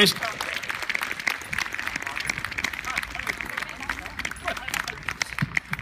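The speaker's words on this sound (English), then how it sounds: "There's big round of applause for Liz Watt" A crowd at an outdoor picnic event in Eastbourne gives a round of applause for Liz Watt. Lively, continuous clapping with scattered voices and murmur mixed in, steady throughout.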